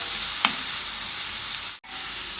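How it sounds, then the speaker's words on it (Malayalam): Capsicum, green chili and garlic stir-fry in hot oil with a steady, dense sizzle and a brief stirring scrape, close and alone. "ഇതെല്ലാം കൂടെ എണ്ണയിലേക്ക് ഇടാം. ഇതെല്ലാം കൂടി ഇളക്കി വഴറ്റാം."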